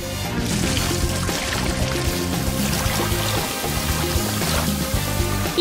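Water gushes steadily as it fills an inflatable pool, a continuous loud pour with a bubbling trickle and no speech.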